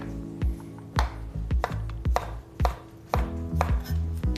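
A knife chops garlic and ginger on a board in quick, crisp, close strikes, about ten sharp taps in a steady rhythm, with no talk.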